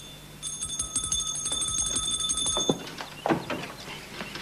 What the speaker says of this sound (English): I've been ringing this bell for several minutes